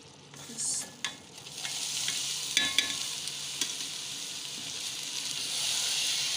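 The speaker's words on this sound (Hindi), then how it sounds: "चावलों को अच्छे से मिक्स करें" Cooked rice mixed into creamy sweet yellow zarda in a pot, giving soft scraping and stirring sounds with a few light clicks over a gentle steady hiss, close and quiet with no talking.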